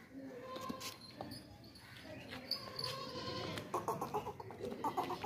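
Large heavy goats at a livestock market bleat several times over a busy background of voices and animal noise, with louder calls toward the end.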